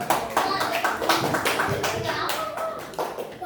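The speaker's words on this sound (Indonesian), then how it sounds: "Oke, tepuk tangan." Children in a classroom clap their hands together in a loose, uneven run of sharp claps. Voices chatter faintly underneath throughout.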